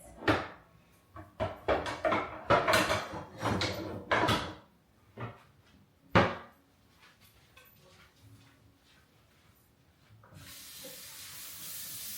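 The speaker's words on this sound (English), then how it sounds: "So let me get out a pan to do that with." A pan being pulled from a kitchen cupboard, a burst of loud clattering knocks and rattles of metal and wood over several seconds, then a final bang, followed by quiet and a soft hiss.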